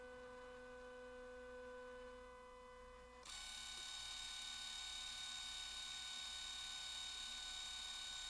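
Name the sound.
motor of a Canon NoteJet 486 laptop printer running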